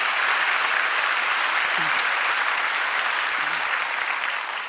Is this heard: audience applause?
yes